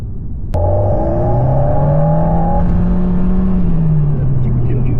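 Alpine A110 S four-cylinder turbo engine revving up under acceleration, a loud rising engine note that kicks in suddenly and climbs steadily before easing, with someone speaking over it.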